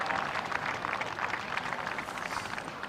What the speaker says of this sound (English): let's give a big round of applause, a big cheer to both teams